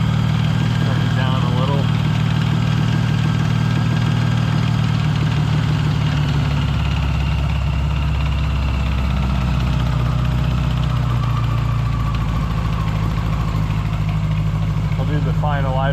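A 1977 Honda GL1000 motorcycle engine idles steadily at close range with a deep, continuous low rumble, while someone talks over it in places.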